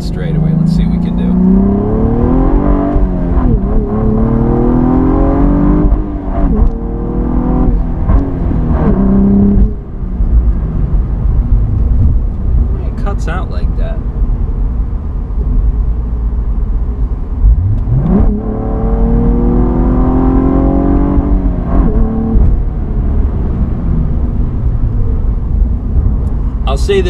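A 2016 Cadillac ATS-V manual sedan accelerates hard along a straightaway, its engine loud and close with rising revs, a brief shift dip, then climbing again, with some talk over it.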